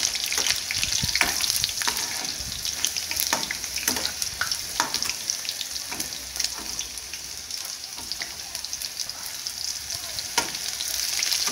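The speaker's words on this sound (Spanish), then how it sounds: "Voy a dorarlos bien doraditos también la cebolla y el ajo." Onion and garlic sizzle in oil as they fry until golden, a dense steady crackle with scattered sharp pops throughout, close and fairly loud with no voices.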